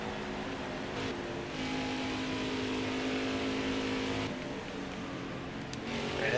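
Race car engine from NASCAR Heat 5 at Homestead-Miami Speedway, a steady loud drone with layered harmonics that eases briefly as the throttle lifts, then builds again, with other cars close by.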